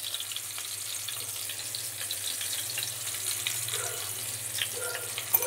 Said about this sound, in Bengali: আগে টমেটোটা তেলের ওপর দিয়ে দিলাম যাতে একটু তাড়াতাড়ি নরম হয়ে যায়